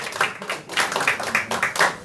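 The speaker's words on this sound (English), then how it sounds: "Everybody, round of applause." A small group claps in a round of applause for a birthday, producing brisk, uneven bursts of clapping at moderate volume that stay fairly close throughout the brief moment.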